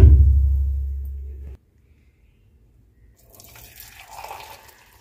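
Boiled water is poured into mugs with a deep, loud gushing that lasts under two seconds and then stops abruptly, followed by near silence and faint kitchen clatter.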